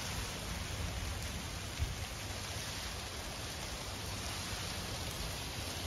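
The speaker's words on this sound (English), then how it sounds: "It could be just rain." Continuous steady rain hissing on surfaces during a severe thunderstorm, even and unbroken, with no voices.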